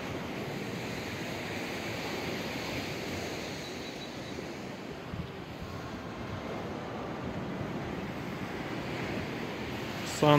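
Waves wash continuously onto Massandra beach in Yalta, Crimea, on a sunny winter day, a broad steady surf roar with some wind noise and no voices.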